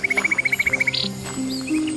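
Birds call in a dense forest, starting with a quick, evenly spaced run of high chirps, then scattered higher calls and softer tweets over a quiet background with no voices.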